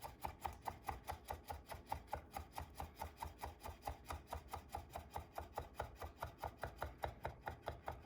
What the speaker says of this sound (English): then you make little 1/8 inch dices, and you just keep going